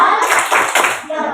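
Schoolchildren in a classroom clap together in an applause cheer for a performing group, a dense run of many hands clapping with small dips, with children's voices mixed in.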